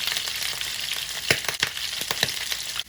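Pork adobo fries in oil in a pan with a constant bright sizzle and crackle, punctuated by several sharper spatters and stirring scrapes, close up and with no voices.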